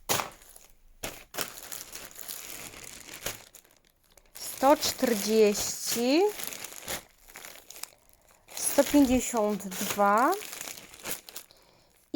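Plastic foil packaging of children's clothes crinkles and rustles in bursts, close and fairly loud, while someone speaks over and between the handling noises.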